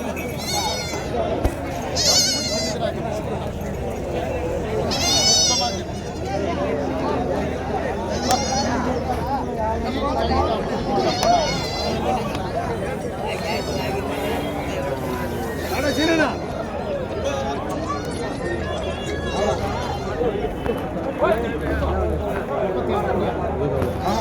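Calves bleat again and again at a native cattle market in Matrapalli, Tirupattur district, the calls close and loud over a dense crowd of voices chattering throughout.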